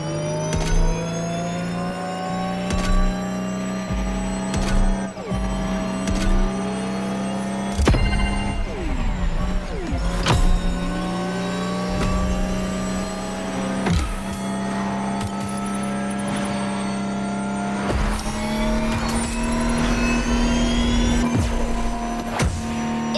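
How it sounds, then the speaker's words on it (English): Lotus Evija electric hypercar in the racing game The Crew Motorsport, a steady whining motor tone rising and falling in pitch as it accelerates and shifts, loud and continuous with no talk. "The Lotus Evija, the EV connoisseur's dream."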